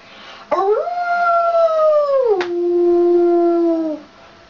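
A girl mimics a wolf's howl in one long, loud rising-then-falling wail at close range, with a short break midway before the howl drops lower and fades.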